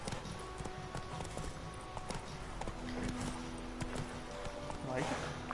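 A horse gallops in The Witcher 3, with a quick, continuous clatter of hoofbeats and a brief whinny near the end, while a person talks over the game sounds throughout.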